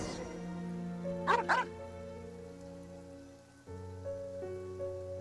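A dog in the video game Genshin Impact barks twice in quick succession at a cemetery, set against a steady game music bed with light rain-like ambience.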